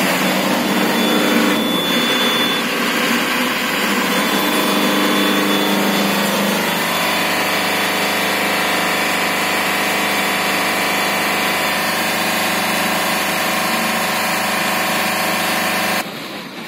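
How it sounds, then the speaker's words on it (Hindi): A BS4 diesel vehicle engine revs up to around 3000 RPM and holds there, a loud, sustained broadband roar with no speech that fades off slightly at the end. "गाड़ी थोड़ा रेस पकड़ो, RPM करो, फुल लेके आओ, 3000 RPM पे लेके जाओ"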